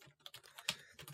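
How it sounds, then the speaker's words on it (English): Quick, soft key presses on a computer keyboard while entering text in Adobe Illustrator CC, a rapid irregular patter of clicks, close and quiet with no talk. "And then I'm going to click and then start typing"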